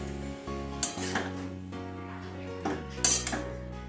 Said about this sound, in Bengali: একটুখানি আমি ঢাকা দিয়ে দিলাম, শাকটা যাতে ভালো করে মজে যায়।